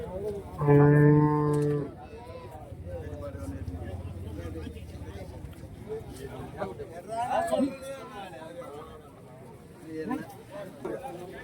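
Jersey dairy cows at the Pochampalli cattle market give one loud, close moo, followed by a busy market hubbub and people talking nearby.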